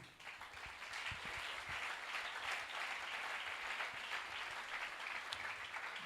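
Church congregation applauding after a scripture reading, a steady, dense wash of clapping that holds evenly for several seconds at moderate distance, with no voices over it.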